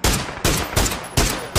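Gunfire in PUBG: five loud, evenly spaced shots cracking out in a steady rhythm, close and dominant, with no voices.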